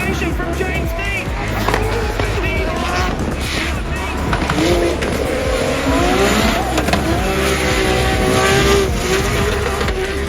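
Drift car at a DriftMasters event accelerating hard through the gears, engine revving loud and close with rising pitch sweeps at each shift, tire noise underneath and a commentator talking over it.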